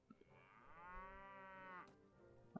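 Cattle low in one long, drawn-out moo lasting well over a second while being herded in the video game Mount and Blade Warband. A few faint clicks surround it, and there is no talking.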